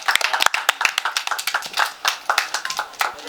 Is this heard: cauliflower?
no